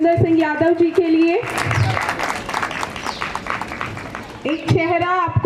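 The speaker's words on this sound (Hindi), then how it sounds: "जोरदार तालियां श्री सुरेंद्र सिंह यादव जी के लिए।" Applause from the audience at a retirement ceremony swells into several seconds of full clapping, with a voice speaking into a microphone before and after.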